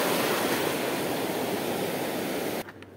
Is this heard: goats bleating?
no